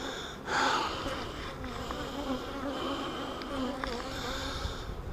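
Honey bees buzz steadily around a honey super during honey pulling, a dense continuous drone close by with a louder swell near the start and no talking.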